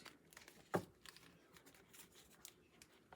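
A deck of tarot cards is shuffled, giving one sharp, quick riffle burst followed by faint papery rustles and taps, quiet and close with no talking.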